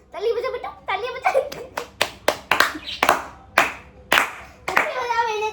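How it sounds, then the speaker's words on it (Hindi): Sharp hand claps ring out as a run of about eight quick, loud, uneven claps. They are mixed with excited talking and a voice at the start and end, during a playful pick-a-hand challenge game. "ताली बजा बेटा, ताली बजा"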